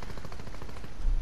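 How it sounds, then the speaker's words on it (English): A single shotgun blast in Fortnite, a short loud burst of noisy gunfire that fills the whole moment, close and sharp with no voice over it. "Fucking missed the damn shotgun shot."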